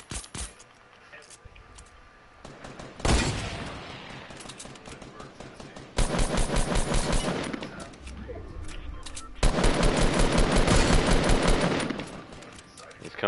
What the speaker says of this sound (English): I'm hitting him with my pistol.